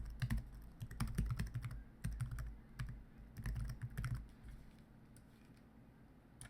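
Quiet, close typing on a computer keyboard comes in quick irregular bursts of key clicks with short pauses, over a faint low background hum and no talk.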